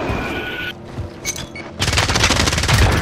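Video game gunfire in a fast-paced shooter, a short burst early, then a sustained loud, rapid automatic volley of overlapping shots filling the last second or so.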